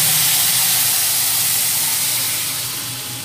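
Water hits hot rice that has been fried in a pot for vegetarian Govinda bhog pulao, giving off a loud, dense hiss of steam that holds steady and then slowly fades.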